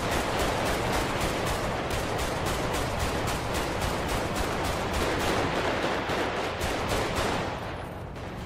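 Video game gunfire rattles in a dense, continuous stream of rapid automatic shots for several seconds, loud and close, tapering slightly at the end.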